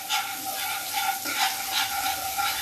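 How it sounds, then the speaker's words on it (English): Cold butter hits a hot pan for butterscotch and sizzles loudly and continuously, with bursts of crackling spatter under brisk stirring, no voices. "Now I'm gonna add cold butter to it. Okay, and it's gonna sizzle,"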